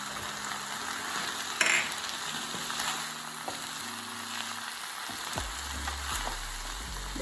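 Schezwan chicken noodles with pepper powder stir-fry in a pan, giving a steady bright sizzle with occasional scraping and clinks of stirring, close and fairly quiet, with no talk.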